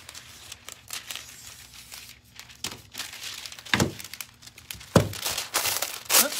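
Aluminium foil crinkled and crumpled by hand while decorating antlers, irregular close rustling bursts with a few sharper crackles, no talk.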